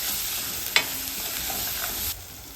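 A spice mix is stirred into food in a pan while making Kathiyawadi dhaba-style vagharelo rotlo with turmeric and salt. A steady low sizzle runs under a single sharp scrape of the spoon, then a few soft stirring taps, with no talk.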